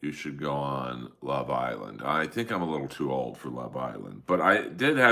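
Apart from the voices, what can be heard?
No everyday noises stand out.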